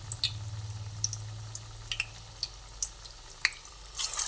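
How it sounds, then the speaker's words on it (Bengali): Lau (bottle gourd) leaf fritters frying in oil in a wok, a soft steady sizzle with scattered light pops and crackles, close and fairly quiet, no talking. "এক এক করে কড়াইয়ের তেলের মধ্যে দিয়ে ভেজে নিচ্ছি।"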